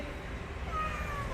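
A single drawn-out cat meow, fairly close and clear, with no talking.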